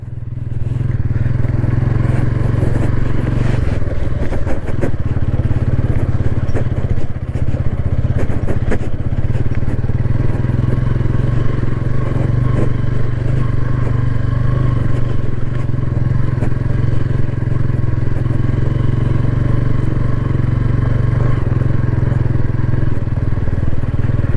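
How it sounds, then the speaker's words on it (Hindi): A Bajaj Pulsar N150 motorcycle engine drones steadily with exhaust rumble while riding, loud and close throughout, with occasional clatter. "इस बाइक का जो एग्जॉस्ट साउंड है काफ़ी अच्छा आपको फील होगा।"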